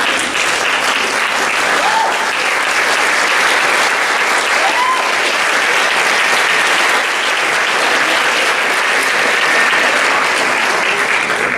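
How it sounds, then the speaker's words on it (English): An audience at a high school athletic awards banquet claps steadily and loudly throughout, a dense, even wash of applause with no break. "We can kind of give them a round of applause for all their hard academic work"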